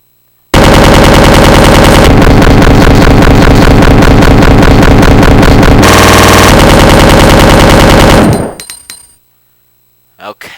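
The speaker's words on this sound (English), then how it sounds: "this is the machine gun's debut in the Resident Evil series" Submachine gun in Resident Evil 2 fires a long continuous automatic burst for about eight seconds, very loud and rapid, with a brief shift in tone midway, then cuts off into trailing echoes and silence.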